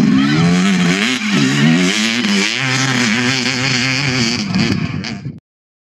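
Sur-Ron StormBee electric enduro motorcycle climbing a steep, grippy uphill slope: a loud, continuous electric motor whine that rises and falls with throttle, wavering pitch throughout, then cutting off abruptly.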